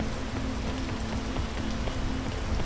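Steady rain falling in a video game, a dense even hiss of drops spattering a surface with a faint low hum underneath, continuous and fairly close throughout.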